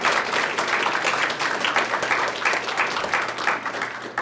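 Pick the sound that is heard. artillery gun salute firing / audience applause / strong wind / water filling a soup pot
audience applause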